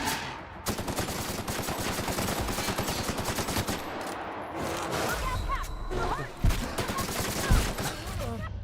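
Rapid automatic assault rifle fire in The Outer Worlds video game, sustained bursts of loud close gunshots with a few heavier impacts near the end, under a voice.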